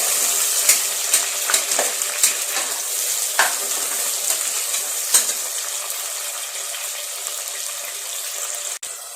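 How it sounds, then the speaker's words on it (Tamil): Green chillies and tomatoes sauté in a pan with a loud, bright, continuous sizzle, broken by sharp scraping stirs every second or so early on, heard close up. "பச்சை மிளகாய், தக்காளி இதெல்லாம் நல்லா வதக்கிட்டுருங்க."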